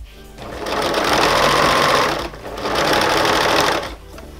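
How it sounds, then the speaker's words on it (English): Sewing machine stitching binding along a quilt edge runs in two steady whirring bursts separated by a brief pause, close and clear with no talking. "I'm just going to continue sewing the binding along the edge of the quilt to the next corner"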